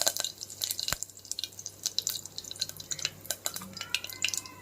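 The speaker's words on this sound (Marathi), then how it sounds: "कढीपत्ता स्वच्छ धुवून घेतलेला आहे तो टाकते" Washed curry leaves drop into hot oil with mustard seeds and cumin on low heat, sputtering in rapid irregular crackles and pops, close and moderately quiet.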